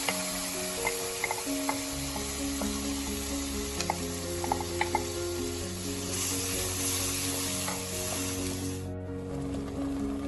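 Onion gravy for pizza sizzling and frying in a pan, a dense continuous crackle with small pops and occasional stirring clinks, close and fairly loud throughout.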